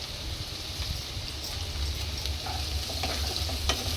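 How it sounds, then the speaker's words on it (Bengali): Chopped chillies and onions fry in hot oil in a pan for a dhaba-style egg tadka, giving a continuous close sizzle with faint scrapes and clinks as they are stirred. "এবার আমি এই লঙ্কা আর এইগুলো পেঁয়াজগুলো ভালো করে ভেজে নেবো"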